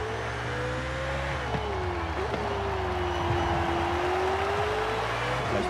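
A Ferrari 488 Pista driving in Forza Horizon 5, its engine holding a steady loud drone that dips and rises through shifts, with a voice speaking over it.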